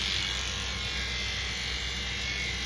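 Electric clippers trimming the hair inside the ear of a matted Cockapoo during a short shave-down, a steady close buzzing drone that runs without pause, with no talking.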